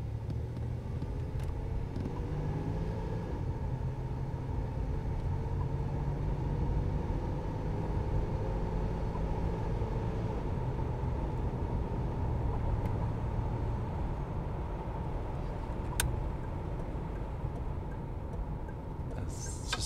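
A 1983 Buick Electra Limited driving on the road, heard from inside the cabin as a faint, steady low engine and road rumble while it gets up to speed, with a soft ticking behind it.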